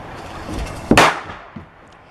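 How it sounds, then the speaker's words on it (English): A firecracker strapped to a styrofoam plate bursts in one sharp, loud crack with a brief tail, followed by a smaller thud a moment later. "So here's a control test of a firecracker blowing up a styrofoam plate just strapped to the styrofoam plate."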